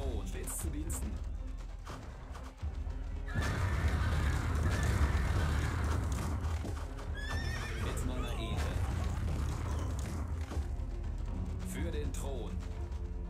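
Horses neighing and galloping in the real-time strategy game Empire Earth, with repeated whinnies over steady clip-clop hoofbeats and battle noise, while someone talks over the game.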